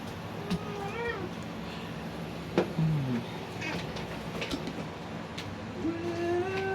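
A cat meows several times in short, scattered calls within a busy indoor scene. Low background noise runs throughout.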